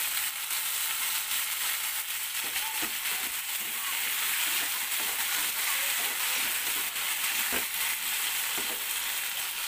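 Parboiled potatoes fry in a pan with a loud, constant hiss of sizzling oil and occasional light scraping clicks from stirring beneath it.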